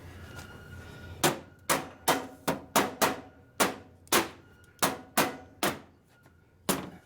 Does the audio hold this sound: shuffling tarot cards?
no